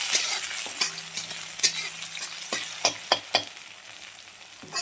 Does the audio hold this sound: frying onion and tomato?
yes